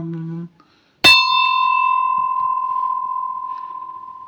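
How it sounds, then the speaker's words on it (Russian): An antique 18th-century small bell, found in an old village, is struck once and rings out loud and close with a clear, sustained tone that slowly fades, following brief talk beforehand. "А вот он, цельный колокольчик. Это мы тоже с Димой, я нашел его в деревне."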